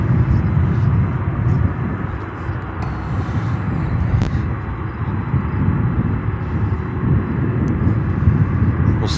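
A Boeing 747 "Queen" arriving from Anchorage lands at Chicago O'Hare, a continuous moderate jet rumble with faint higher whine, steady throughout and heard alone.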